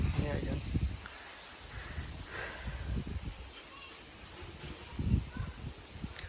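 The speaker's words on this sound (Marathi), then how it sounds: "वारा एवढं आहे डेंजर की ही सारखं आलटी पलटी होतं" Strong wind gusts across a rooftop terrace, with low rumbling buffets that rise and fall against the microphone, and a person talks quietly underneath.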